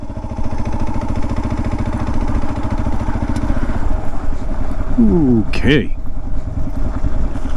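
A Kawasaki KLR650 engine idles nearby with a steady low rhythmic thump, while someone speaks briefly over it.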